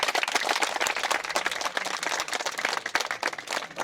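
Audience at a pump rehabilitation site visit applauds the director general of SICA, a dense, steady burst of many hands clapping, moderately distant, with no talk over it.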